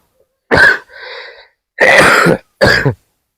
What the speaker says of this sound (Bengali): তো তার জন্য হালকা হালকা কাশি হয়, মানে হচ্ছে এখন